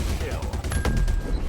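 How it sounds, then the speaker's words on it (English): Laser cannons firing in Star Citizen, a rapid run of sharp repeated blasts with a low rumbling undertone, fairly loud and close, with a faint voice present under the shots. "these little laser cannons seem to do a lot of work"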